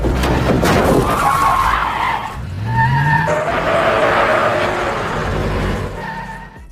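Car tires squeal and skid during a chase between two cars in an action film, loud and sustained, with engine roar and a brief shattering crash mixed in.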